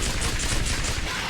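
A sentry gun in the video game Aliens Dark Descent fires a dense, rapid burst of automatic shots, loud and continuous, with no voices over it.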